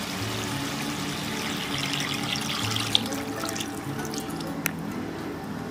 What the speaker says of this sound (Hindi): अब हम डालेंगे इसमें ये हमारा कुकर में जो हमने सूप रखे हैं ना